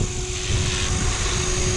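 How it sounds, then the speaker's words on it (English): A radio-controlled model helicopter with an unadjusted tail rotor hovers nearby, its motor and rotor blades giving a steady, continuous whine and buzz for the whole stretch, with no talk. "So this is a case of the unadjusted helicopter and the wags."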